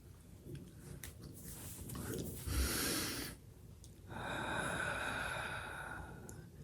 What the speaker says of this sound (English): Take another couple deep breaths.